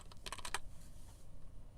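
A computer keyboard clicks in a quick, close burst of several keystrokes, followed by a quieter stretch with scattered light taps.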